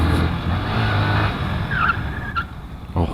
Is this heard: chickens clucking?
no